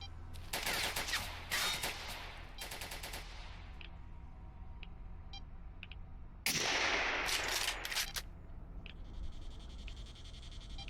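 Automatic gunfire in the video game S.T.A.L.K.E.R. Narodnaya Solyanka with an overhaul mod: rapid bursts of shots, a long volley at the start and another sharp burst later, fairly loud against a quiet ambient background of faint insect-like chirps, with no talking.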